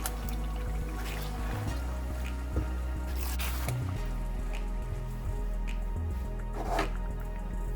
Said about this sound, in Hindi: ये मैंने 3 टमाटर के पेस्ट बनाए हैं, इनको मिक्स कर देंगे।